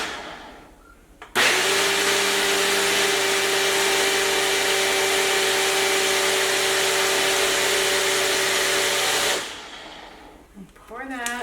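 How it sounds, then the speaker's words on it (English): A countertop blender whirs steadily for about eight seconds after a half cup of olive oil is added, a loud continuous motor drone that starts abruptly and winds down at the end. "Put that in the blender."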